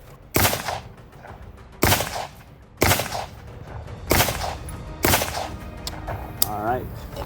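Five M855A1 rifle rounds strike a level III+ armor plate, each a loud sharp report with a ringing tail, spaced roughly a second apart with no talk between shots.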